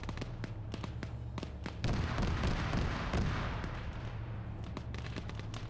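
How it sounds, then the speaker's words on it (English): Gunfire in a military video game: many crisp shots crack steadily at a fairly even rhythm, with a denser, louder burst of rumbling fire in the middle, all heard without talking. "There's those shots northeast."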